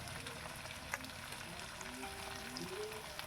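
Thinly sliced new potatoes fry with onion in a pan, giving a faint, steady sizzle with soft crackles and no talking.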